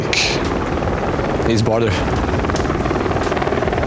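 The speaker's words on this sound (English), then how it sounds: "In the sky, it's a helicopter, easy" A helicopter drones steadily overhead on the Border map of Rainbow Six Siege, a continuous loud rotor hum beneath a short spoken remark.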